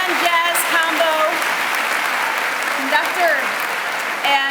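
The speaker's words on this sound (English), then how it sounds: "One more round of applause for Brian Carucci, our Shen Jazz Combo" A school staff audience at a superintendent's conference day applauds a jazz combo conductor, a steady wash of clapping heard under a voice speaking over it.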